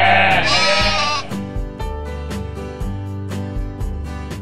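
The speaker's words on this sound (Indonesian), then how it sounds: "di sini kandang kambing dan dombanya nggak cuma 1, tapi ada beberapa sesuai dengan jenisnya masing-masing." One loud bleat from the goat and sheep pens at Dairyland Riverside in Puncak Bogor opens the moment, then gives way to loud rhythmic music with a heavy bass beat.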